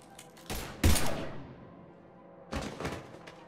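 Bursts of gunfire in Mass Effect Legendary Edition: two loud volleys of rapid shots a couple of seconds apart, mid-distance, with quieter pops trailing between them.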